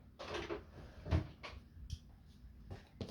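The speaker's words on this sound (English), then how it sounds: "Opening up the drawer." A drawer is pulled open indoors at a crafting table, several soft sliding scrapes and light knocks spread over a few seconds, quiet and close.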